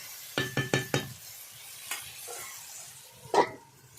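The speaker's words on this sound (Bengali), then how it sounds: "ভালো করে নাড়িয়ে ঢাকনা দিয়ে চাপিয়ে দেব" Lentils and chikni greens are stirred in a metal pan with a quick run of four scraping clinks, then a few isolated scrapes over a soft sizzle, with one louder knock near the end.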